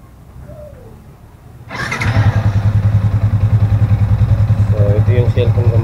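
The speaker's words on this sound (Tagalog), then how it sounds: "So i-start natin ang ating motor." A motorcycle engine cranks and catches after a quiet stretch with a faint bird call, then settles into a loud, close, steady idle with a rapid regular pulse, fitted with a USB charger.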